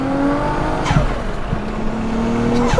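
Toyota Chaser engine droning inside the moving car, a steady tone shifting pitch as it changes gears, with a brief pause in the power.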